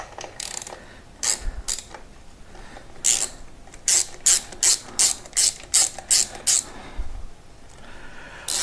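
A ratchet wrench tightens bolts while working on a Royal Enfield Meteor 350 motorcycle during a valve check, giving a close series of about ten sharp, evenly spaced clicking bursts after a few scattered ones, alone with no talk.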